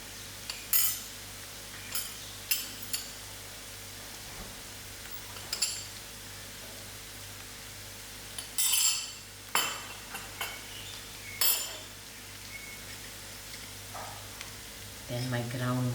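Curry leaves and masala spices hit hot oil in a pan for a prawn and chicken curry, giving a soft background sizzle punctuated by scattered clinks and scrapes of a utensil against the pan.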